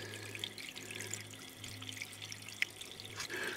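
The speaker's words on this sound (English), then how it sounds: "It's coming right down that black tube and emptying into the bottom of this 5-gallon bucket." Gravity-fed water pours from a black tube into the bottom of a 5-gallon bucket, a faint, continuous trickling splash with a few small drips.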